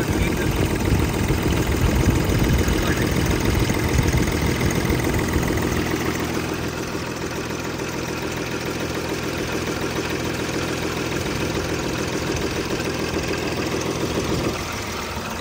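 A 2017 Hyundai i10 Asta idles steadily, a continuous mid-low engine hum with light vibration that eases slightly in level partway through, heard up close with no voices over it.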